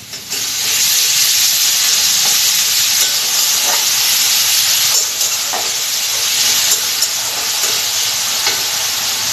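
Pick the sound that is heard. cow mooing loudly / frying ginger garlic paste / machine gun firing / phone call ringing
frying ginger garlic paste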